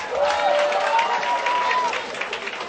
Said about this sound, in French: je sens les applaudissements